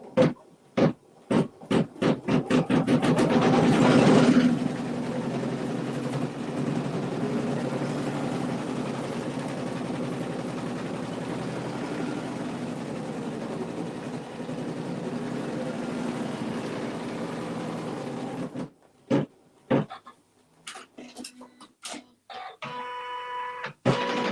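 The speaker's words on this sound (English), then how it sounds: "after it stitches down the fabric, it's now going to stitch another circle" A computerized embroidery or sewing machine stitches down fabric onto a rope bowl, a steady mechanical whirring hum that runs continuously for about fifteen seconds after a few short starts, then stops and gives way to scattered clicks.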